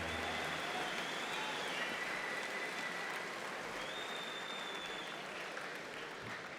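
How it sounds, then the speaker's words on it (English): An audience applauds the winner of a women's arm wrestling match at an East vs West event, a dense, steady wash of clapping that holds loud from start to finish. "Ladies and gentlemen, give her a massive round of applause"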